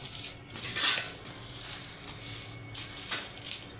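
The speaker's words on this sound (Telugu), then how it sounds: "ఫుల్ షోప్ వేసేసాను, వేసి రుద్దేస్తున్నాను" Soapy silver items rub and clink together while being scrubbed by hand, a close, soft run of metallic jingles and scraping with a few brighter chimes, no speech.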